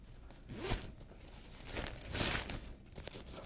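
A zipper on a bag's zipper pocket is pulled open and shut in two quick rasping strokes, close and fairly quiet, amid light rustling.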